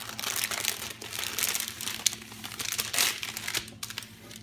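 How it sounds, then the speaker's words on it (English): Bubble wrap being pulled off a product inside a delivery box, a steady run of crinkling and rustling plastic with a few sharper crackles, close up and with no talking. "It comes wrapped in this bubble wrap."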